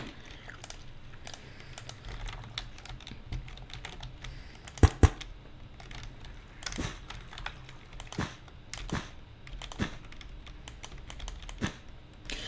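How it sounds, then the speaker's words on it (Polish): A computer keyboard sits close to the microphone and is typed on in a steady run of crisp clicks, with two sharper knocks midway and no talking. "Wiem, że u mnie teraz bardziej na odcinkach słychać klawiaturę, no dlatego, że mam blisko mikrofon."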